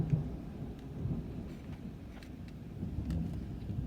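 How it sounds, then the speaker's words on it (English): A low, rumbling roll of thunder from a strong spring thunderstorm fills the background, steady and fairly distant beneath light rain and occasional wind buffeting on the microphone. "Yep, there's the thunder."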